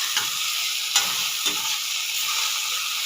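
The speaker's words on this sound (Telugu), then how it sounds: "పచ్చిమిర్చి ధనియాలు జీలకర్ర వేయించుకుంటున్నానండి కొత్తిమీర కూడా వేసి వేయించుకోవాలి" Green chillies, coriander seeds, cumin and coriander leaves frying in a pan, a bright continuous sizzle with a few sharp stirring scrapes, no voices.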